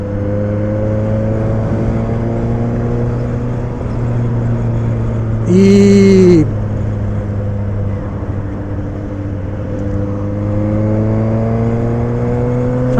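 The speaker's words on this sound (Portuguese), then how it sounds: "deixa eu acelerar um pouquinho" A car engine hums at a steady idle, then revs up briefly in the middle before settling back, with the pitch climbing again near the end.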